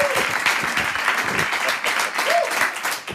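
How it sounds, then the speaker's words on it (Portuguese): A studio audience on a Portuguese music television programme applauds its guests, dense sustained clapping close and loud, with a brief voice or whoop rising above it. "Eu peço uma salva de palmas"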